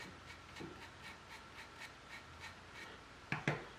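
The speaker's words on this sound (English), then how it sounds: "Now you got to sand it, like I suggested before," Soft, steady back-and-forth rasp of wood being hand-sanded with fine-grit paper, quiet and close, with a couple of sharper knocks near the end.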